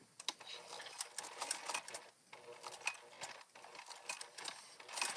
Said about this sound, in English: I am going to stitch from top to bottom